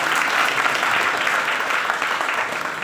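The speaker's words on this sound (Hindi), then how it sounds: "तालियां पहले बजेगी या बाद में?" Audience applause at a university farewell ceremony for a retiring professor, a loud, dense, steady wash of clapping from a large hall crowd, sustained without a break and with no talk over it.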